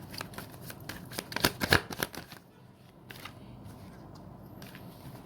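Tarot cards are shuffled up close in quick riffling bursts of crisp paper flutter, peaking early and then trailing off into quieter soft shuffling.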